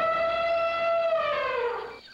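Group of people, children and adults together, imitating an elephant's trumpet at a zoo-themed play class: one sustained, loud, bright brassy blare about two seconds long, falling slightly in pitch and fading at the end.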